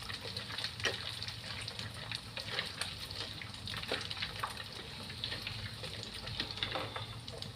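Tofu sizzles and crackles steadily in hot oil in a wok, a continuous close frying hiss with small popping bursts and occasional stirring.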